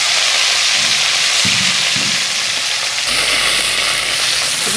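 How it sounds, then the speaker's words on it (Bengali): A rui fish head frying in hot oil, making a steady, loud, close sizzle and hiss that carries on without a break, with a few soft stirring or shifting bumps underneath. "মাছের মাথাটা ভালোভাবে ভেজে নিতে হবে।"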